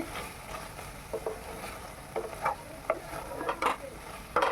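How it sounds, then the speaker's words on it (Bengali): Masala being turned over in a cooking pot so it won't scorch, with soft irregular scraping and shuffling strokes over a low continuous sizzle, close by and with no voices. "আবার ভালো করে নেড়ে চেড়ে দিচ্ছি যাতে মশলাটা পুড়ে না যায় নিচে"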